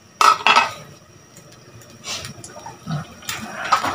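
A metal lid clatters onto a cooking pot of chicken and cabbage: two quick clinks, followed by softer clunks and scrapes of cookware in a home kitchen.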